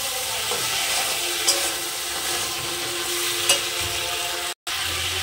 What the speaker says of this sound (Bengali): এবার দিয়ে দেবো আমি ভেজে রাখা আলু কটা। আবার একটু হালকা নাড়াচাড়া করে নেব।